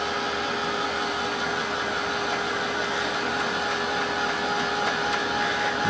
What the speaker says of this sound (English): I'm going to dry this with my heat tool